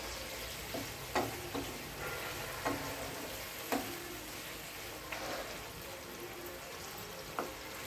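A Bengali spice mixture with torn green chilies fries in a pan, giving a quiet continuous sizzle broken by occasional sharp taps and scrapes of a spoon against the pan.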